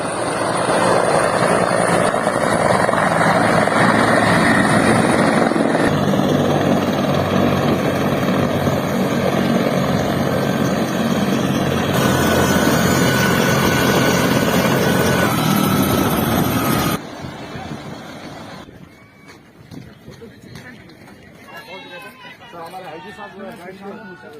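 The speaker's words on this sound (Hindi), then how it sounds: "2 बजे पुलिस लाइन में हेलीकॉप्टर उतरा।" A police helicopter carrying the Uttar Pradesh chief minister lands at the police lines in Etawah, its loud rotor drone heard up close under talk before it drops away sharply near the end.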